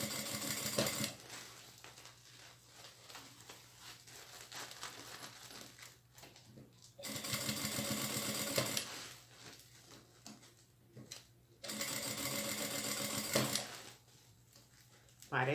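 A sewing machine stitching a satin and tulle pouch runs in three steady whirring bursts, separated by quieter pauses filled with handling and rustling of fabric, with faint talk in the background.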